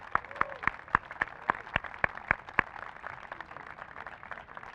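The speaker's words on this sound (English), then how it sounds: "Give them an applause, please" A small crowd applauds Waterbury's firemen and policemen at a civic event, with one close, sharp, rhythmic clapper standing out over softer scattered clapping that fades after a few seconds.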